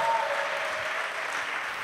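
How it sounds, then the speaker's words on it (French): Church congregation applauding together in acclamation during a pastoral academy session, a steady wash of clapping with no break, close and moderately loud. "Offrande d'acclamation à notre Seigneur Jésus-Christ."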